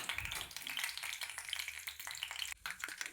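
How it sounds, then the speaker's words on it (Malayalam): Mustard seeds splutter in hot oil in a pan, a quiet, close, continuous crackle and popping with no talk. "കടുക് പൊട്ടി വരട്ടെ."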